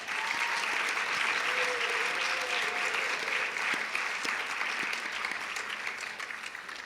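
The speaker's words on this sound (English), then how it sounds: "Let's go and give them a round of applause." An audience at the Miss Provo 2018 pageant claps in sustained, dense applause, loud and steady throughout before easing slightly at the end.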